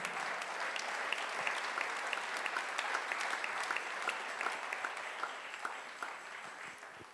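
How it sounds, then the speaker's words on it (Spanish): A church congregation claps at a Spanish-language sermon, a full, steady round of applause with a few sharp individual claps standing out, held for about seven seconds before tapering off. "Dele ese aplauso al Rey."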